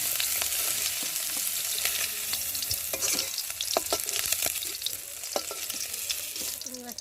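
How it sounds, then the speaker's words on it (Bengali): Shrimp marinated in salt and turmeric fry in hot oil, a steady close sizzle with scattered pops and crackles and occasional stirring scrapes throughout. "আর এখন আমি নুন হলুদ মেখে রাখা চিংড়ি মাছটাকে দিয়ে ভালো করে ভেজে নেব।"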